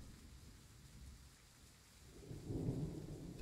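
Thunder rumbles in Train Sim World 3 during a storm on an IC run to Cologne: steady rain hiss, then a low, swelling roll of thunder in the final second, moderately loud, with no speech.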